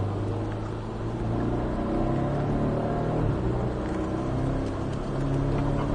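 A Porsche 718 Cayman S on a race circuit gives off a continuous engine drone with shifting low tones as it accelerates, steady and fairly close, with no speech over it.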